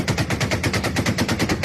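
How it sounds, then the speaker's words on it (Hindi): Rapid automatic gunfire from Taliban fighters attacking Pakistani military posts, a steady rhythmic burst of shots repeating several times a second, loud and continuous with no voices. "ये देखिए जरा विजुअल देखिए पाकिस्तान के सैन्य ठिकानों पर तालिबान की फायरिंग"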